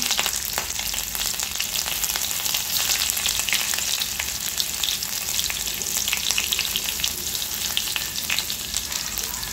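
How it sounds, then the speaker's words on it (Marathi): Green chillies frying in hot oil with mustard seeds and cumin, giving a loud, continuous crackling sizzle with dense tiny pops throughout. "आता या ज्या मिरच्या आहे या टाकून घ्यायच्या आहे."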